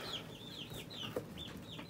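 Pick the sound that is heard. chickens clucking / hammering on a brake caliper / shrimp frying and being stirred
chickens clucking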